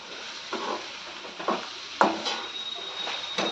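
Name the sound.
stir-frying masala in oil for moth bean dal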